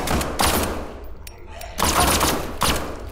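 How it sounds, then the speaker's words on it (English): Rapid bursts of gunfire in the tactical horror shooter game SCP 5K, several loud broadband volleys spaced a second or so apart, with quieter stretches between them. "I assume Bebe was shooting that one"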